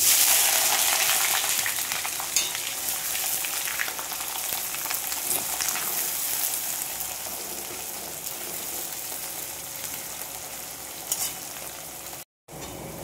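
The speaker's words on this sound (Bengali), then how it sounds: "এখন আমি দিয়ে দিচ্ছি কুচিয়ে রাখা পেঁয়াজগুলো।" Chopped onions fry in hot oil with tempering spices in a pan, a steady soft sizzle and crackle that slowly eases over several seconds, with no talk.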